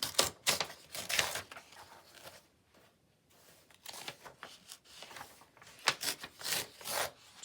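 Pages torn out of an old book being altered into a journal: repeated close, papery ripping bursts in quick succession, a brief quiet lull midway, then more tearing.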